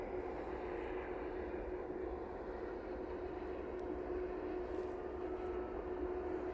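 A departing aircraft climbs away from runway 27 at East Midlands Airport in the evening, a steady broad engine roar that holds at a constant distance throughout with no voices.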